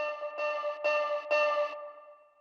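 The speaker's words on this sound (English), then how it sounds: "Let's add a little bit of distortion." A sampled tone in the Iris 2 sampler pulses in four short, gritty bursts through a distortion effect, each roughly half a second, ending in a fading ringing tail.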